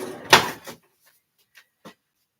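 A kitchen drawer opens with one loud sliding clunk, followed by a few faint clicks and taps in an otherwise quiet room.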